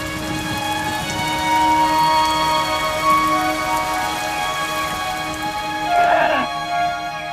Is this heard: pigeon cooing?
no